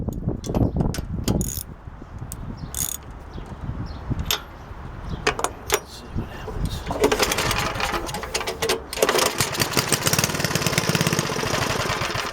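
A Yardman Snowbird snowblower's small engine is pulled over with several rattling tugs, then starts and settles into a loud, steady, clattering run close by.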